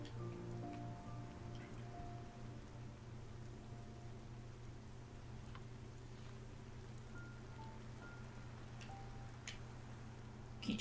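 Calm rain in the video game Bound, a soft steady patter over a low sustained tonal drone, faint and unbroken, with a few brief higher tones and no talk.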